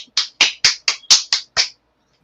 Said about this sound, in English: You're clapping at me